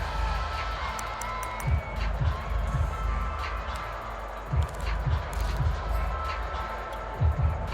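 A stadium crowd in the Madden NFL 22 football video game roars in a steady, distant wash, with occasional dull thuds and brief swells rising above it.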